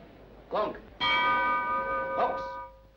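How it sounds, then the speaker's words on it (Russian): A boxing match gong from a comedy sports film rings twice: one short strike, then a longer sustained clang with a ringing tail and a brief restrike near the end, heard alone. "Гонг!"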